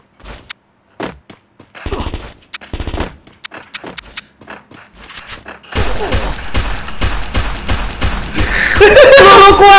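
Gunfire in a video game: sparse single shots at first, then a dense, loud stretch of rapid automatic bursts and a clattering firefight, with a few voices heard alongside.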